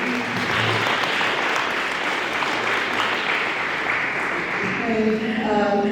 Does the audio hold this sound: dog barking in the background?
no